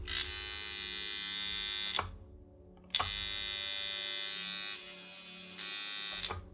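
A tattoo machine switched on by a Critical CPX wireless foot pedal gives a loud, close, steady electric buzz in two runs, about two seconds, a one-second pause, then about three and a half seconds with a slight change in tone midway.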